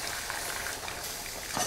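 Strawberry jam at a rolling boil in a pot gives a brief, dense, steady bubbling hiss, heard close and fairly quiet.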